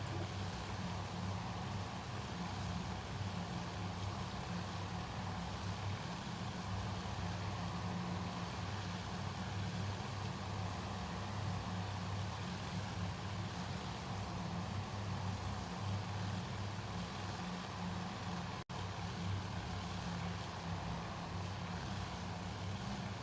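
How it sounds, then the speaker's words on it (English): Propeller engines of WWII bombers, Avenger dive bombers and torpedo bombers at the Battle of Midway in the game Task Force Admirals, droning as a continuous, even roar throughout with no break. "The fighter squadron, the Avenger dive bombers going in."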